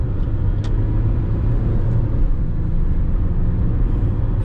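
A Maruti Suzuki car cruising on the road, steady engine rumble and road noise from inside the cabin, shifting through the gears with no distinct break heard.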